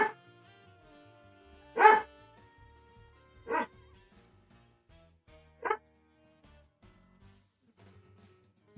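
A puppy barks four separate times at intervals over a quiet indoor background, the second bark loudest, with faint whines between.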